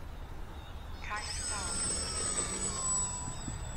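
A Micro Draco RC plane on a 4S 450mAh Spektrum battery takes off without flaps. Its electric motor revs up to a rising high whine that holds steady and loud as it climbs away, and a person talks underneath.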